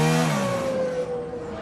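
A Formula One car engine revs high and then winds down, the pitch falling over a second and a half with no talk.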